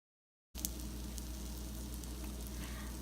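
Eggs hitting hot masala in a pan for an egg roast, starting after a moment of silence with a loud, steady sizzle and frying crackle that continues to the end.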